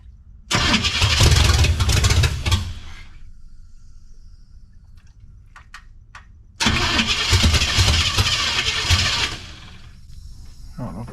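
A 1972 Chevrolet C10's small-block 350 V8 cranks loudly through open headers in two long bursts, broken by a quieter gap with faint clicks, with no talk over it.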